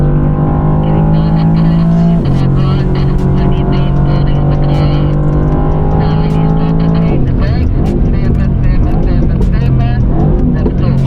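A Mercedes-Benz car driven hard into a corner, its engine droning loud and steady with shifting pitch as it loads up, with excited talk over the top throughout.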